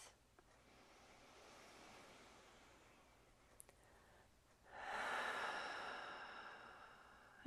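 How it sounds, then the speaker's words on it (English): Slow, deep breathing during a guided relaxation exercise for stress relief, faint and close, with a long soft exhale swelling near the end. "taking a few deep breaths"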